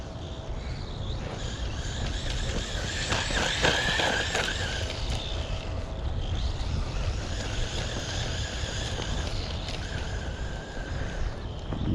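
A cheap DEERC 001E RC car drives with a steady whining motor and rolling rumble, continuous and fairly close, with no talk over it.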